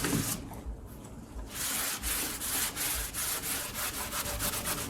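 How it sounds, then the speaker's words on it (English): Excess Glaze Couture glaze is wiped gently off a ceramic piece, giving close, steady scratchy rubbing with repeated short strokes. "So I like to kind of wipe off all my excess first, fairly gently"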